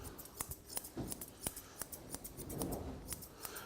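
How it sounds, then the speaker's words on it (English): Grooming scissors snip repeatedly through a cockapoo's leg fur, a quick irregular series of crisp, close metallic clicks with brief gaps and no voices. "we can just blend in with the scissors,"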